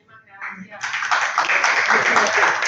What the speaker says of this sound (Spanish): Fuerte aplauso para Edith Cuevas.